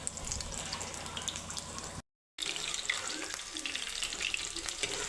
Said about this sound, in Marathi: लॉलीपॉप मीडियम गॅसवरतीच तळायचे, जेणेकरून आतून चांगले शिजले जातील आणि बाहेरून क्रिस्पी आणि कुरकुरीत होतात हे लॉलीपॉप